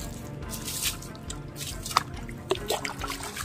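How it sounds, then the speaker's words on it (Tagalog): Water is splashed onto a person, heard as close splashes and drips: a few sharp wet slaps around the middle, with trickling and dribbling between them under low background noise. "Sasabuyan ba kita ng tubig?"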